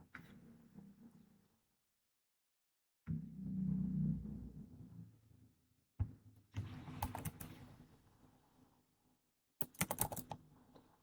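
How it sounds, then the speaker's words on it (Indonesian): A computer keyboard typed on during a Kubernetes and OpenShift command-line session, with clusters of quick key clicks broken by pauses over a low room hum, faint and close. "jadi kita ketik aja langsung"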